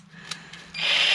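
A drill bit being fitted into the chuck of a power drill from a Harbor Freight tool haul: a few faint metallic taps, then a louder, sustained hissing scrape near the microphone.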